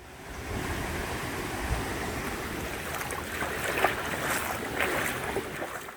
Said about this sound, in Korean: 이렇게 시원하게 발을 적시며 건널 수 있으니 더 좋은데요